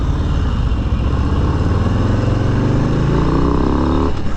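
A 2022 Harley-Davidson Low Rider S with the 117 engine rumbles loudly and close up, its deep throaty exhaust rising in pitch as it accelerates through the gears.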